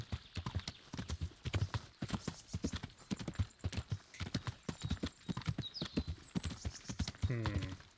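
Horse hooves clip-clop at a steady trot across ground in Kingdom Come: Deliverance, a dense, even rhythm of close, crisp strikes throughout, with a brief snort or whinny near the end.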